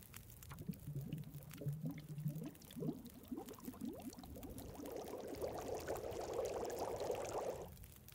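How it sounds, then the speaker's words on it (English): Water heating on a stove in the survival game The Long Dark: faint bubbling and gurgling that gradually swells into a steady, rushing simmer, alone and quiet. "Let's go ahead and cook up the water."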